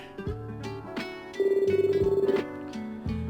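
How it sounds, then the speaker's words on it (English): A phone rings in the video game Tokyo Afterschool Summoners, a pulsing ring tone sounding for about a second over steady background game music with soft percussive hits. "The phone rings for a long time, testing your patience."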